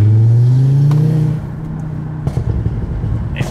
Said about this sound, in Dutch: dat betekent even de uitlaat open in sport